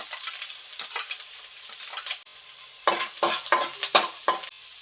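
Chopped garlic frying in hot coconut oil for egg fried rice, a steady crackling sizzle broken by louder bursts of stirring and scraping in the pan.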